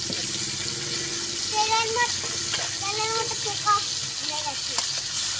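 Snakehead fish heads fry in hot oil in a village kitchen, a steady close sizzle and crackle continuing beneath someone talking.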